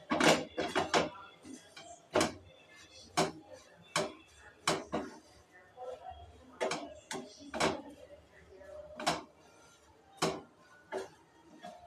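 A spoon knocks and scrapes around a cooking pot as a masala is stirred until its raw smell cooks off, giving sharp irregular clinks and taps, close and distinct, spaced roughly a second apart.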